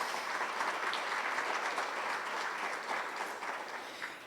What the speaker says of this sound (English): I want a round of applause for those volunteers as well